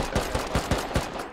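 Rapid gunfire from a survival video game: about six sharp shots in a quick, slightly uneven burst, loud and close over a constant background roar.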